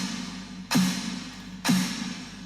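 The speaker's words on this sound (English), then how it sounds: "the reverb tail is still there when the next hit strikes" Two sharp snare hits about a second apart, each followed by a long reverberant wash that lingers until the next strike.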